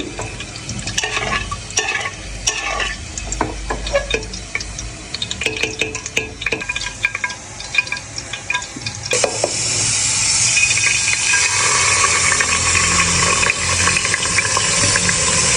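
Rice is stirred in hot ghee in a pan, giving constant frying crackle and scraping with spoon clinks. The sizzle swells louder and brighter partway through and then stays steady to the end.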